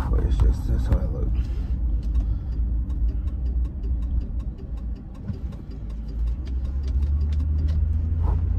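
Interior of a moving car, a steady low engine and road rumble under a woman's close, continuous talking, with a few small clicks and rattles along the way.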